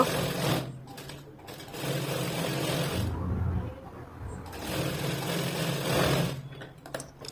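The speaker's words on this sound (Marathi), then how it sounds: "व्यवस्थित आणि सावकाश अशी ती शिलाई मारून घ्यायची" A sewing machine stitches a blouse in runs of fast, rattling mechanical whirring, with a brief quieter break midway and a softer stretch near the end.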